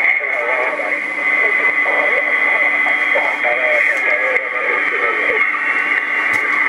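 Shortwave-style radio reception on the 80 m band through a homemade RX receiver heard outdoors: a steady loud hiss with a faint warbling voice transmission buried under the noise.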